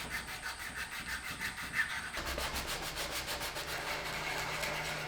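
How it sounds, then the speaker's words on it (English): Steady rhythmic rubbing of sandpaper on a wooden guitar, quiet and close, with the scratchy strokes becoming brisker and more regular partway through. "I could move on to some sandpaper to get it that last little bit of the way."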